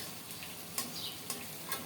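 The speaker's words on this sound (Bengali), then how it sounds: "এদিকে আলুগুলো সুন্দর মতো ভাজা হয়ে গেছে" Potatoes fry quietly in a pan, giving a soft, steady sizzle with a few light scraping ticks from stirring.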